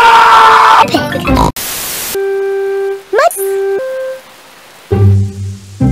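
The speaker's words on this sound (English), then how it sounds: "It is raining today" Steady hiss of rain dominates mid-clip, bracketed by cartoon voices talking and a brief musical chime.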